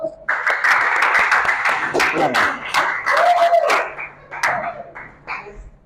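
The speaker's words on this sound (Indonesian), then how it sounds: "Kelompok 1, kasih tepuk tangan dulu" Students in a classroom clap for group 1 in a short burst of scattered, uneven claps, close and fairly loud, mixed with excited voices and a few shouts before it thins out.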